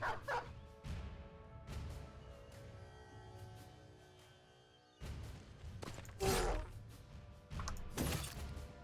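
A dog in the video game Battle Brothers barks a few times in short, fairly clear yelps, mixed with clanking combat effects and a musical background.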